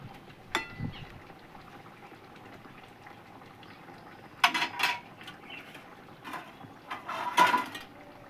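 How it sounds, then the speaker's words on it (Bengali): A pot of alur dom, a potato curry, bubbles at a soft simmer, with a few sharp clinks and clatters of utensils against the pot. "তরকারিটা ফুটে উঠেছে"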